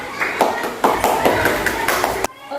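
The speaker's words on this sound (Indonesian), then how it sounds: "tepuk tangan untuk Veo dong" Children in a fifth-grade classroom clapping for a classmate, a burst of fairly loud, uneven hand claps with distinct sharp hits that stops abruptly.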